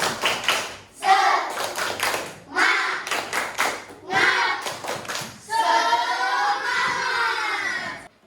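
A school class does a rhythmic spirit clap, bursts of patterned clapping and tapping alternating with children chanting together in unison, close and lively in a classroom.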